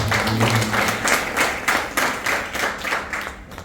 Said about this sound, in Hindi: हम चाहेंगे कि थोड़ा ताली से इनका स्वागत।